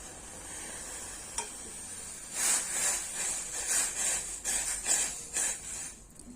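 Masala milk tea bubbles and sizzles steadily in a pan, with a louder burst of rolling, hissing boil partway through before it eases off.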